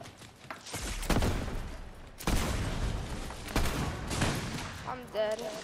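Gunfire in the Fortnite video game, with bursts of rapid shots and loud cracks that repeat over a few seconds, and a voice speaking between them.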